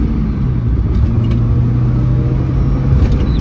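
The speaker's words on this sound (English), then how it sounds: "the fact that it's not shorting out means that the car actually runs" Mazda Miata engine running after an ignition wire repair, a loud steady low rumble with a slight rise in pitch, heard from inside the car.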